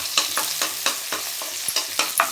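Onions sautéing in a pan for chicken thokku, a close sizzle broken by quick, regular scraping strokes of a spatula, about eight in a couple of seconds.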